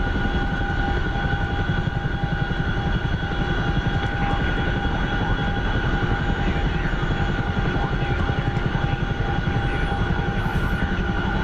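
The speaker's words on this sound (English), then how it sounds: "the Chinook wants to go, go, go, and it will absolutely overspeed real easy" Chinook twin-rotor helicopter in a flight video game, a steady loud rotor and engine drone with constant whine tones running unbroken throughout.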